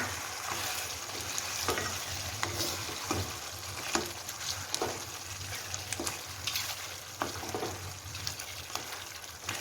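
Cream being stirred into chicken malai boti in a hot pan, a steady sizzle with a spoon scraping through the mixture at an uneven pace, close and continuous with no talk.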